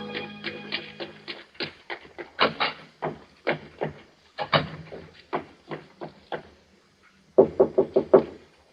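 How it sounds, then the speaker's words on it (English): Someone knocks on a door in repeated bursts of sharp raps, with short pauses between the groups and a final quick cluster of loud knocks, each hit close and crisp over a quiet background. "I waited for her knock."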